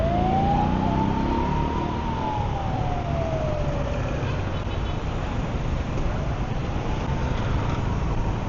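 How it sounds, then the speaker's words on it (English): Ambulance siren wailing along a busy Saigon street on a Saturday night, its tone rising and falling clearly above a steady wash of motorbike and car traffic, moderately near. "Sounds like there's even an ambulance here."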